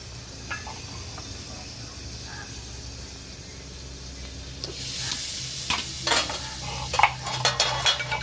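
Quiet background hum, then a loud hissing sizzle of potatoes frying in hot oil, with bursts of crackle as food is stirred.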